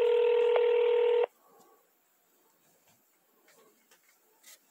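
Steady telephone dialing tone during a call transfer to a court clerk's office, a loud electronic tone lasting just over a second, then faint background noise and quiet clicks on the line.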